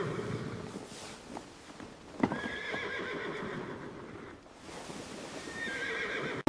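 Several horses whinny and neigh at a moderate distance while hooves clip-clop steadily beneath, the calls rising in two clear bursts.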